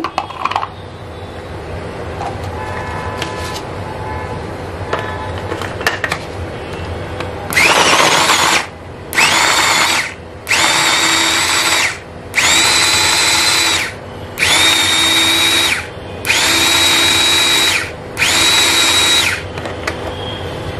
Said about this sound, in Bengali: এখানে আমি এখন রসুন কুচি করে দেখাচ্ছি